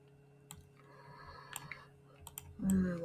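Soft keystrokes on a computer keyboard come as a few scattered taps over quiet background hum, ending with a brief louder rustle.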